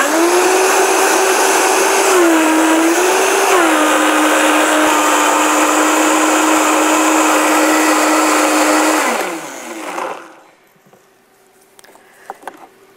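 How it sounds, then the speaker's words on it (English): A Vitamix Turbo Blender 4500 whirs loudly and steadily at high speed while mixing butter, its pitch dipping briefly before it winds down and stops near the end. "this is a Vitamix Turbo Blender 4500, and I'm going to start it, always start it on low,"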